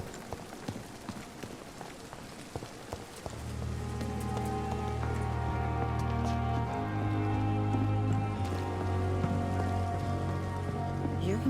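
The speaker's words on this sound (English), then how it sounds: "Look at all these people and the rain." Rain falls steadily in the video game Vampyr, a constant close patter that continues as a low sustained musical drone swells in partway through.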